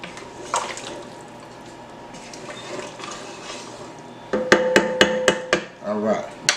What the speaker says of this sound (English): So I'm just stir that up in here a little bit.